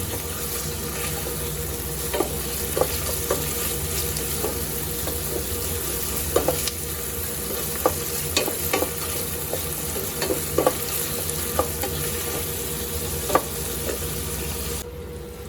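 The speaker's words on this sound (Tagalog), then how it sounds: "typically gigisa lang natin yung bawang, sibuyas, kamatis" Garlic, onion and tomato sautéing in a pan for kare-kare, a steady close sizzle with scattered stirring clicks and scrapes throughout, no talking.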